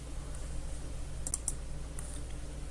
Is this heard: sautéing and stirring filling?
no